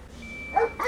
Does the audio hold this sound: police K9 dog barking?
yes